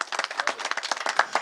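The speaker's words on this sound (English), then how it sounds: "let's clap that up" An audience at a hip hop panel event claps in a quick burst of sharp, scattered hand claps, close and lively, lasting just over a second with no talking.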